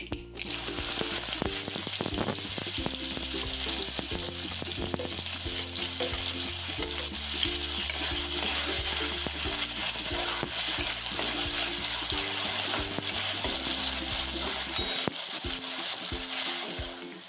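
Onion frying in hot oil with cumin and mustard seeds in a pan for a cauliflower bhaji, a steady loud sizzle running throughout, close up, with no talking.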